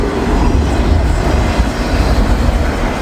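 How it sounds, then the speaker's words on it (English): A train rolls steadily nearby after a decent snowfall, its low continuous rumble and faint rail clatter filling the three seconds without pause, heard as another train comes in for a meet. "We got a train meet, folks."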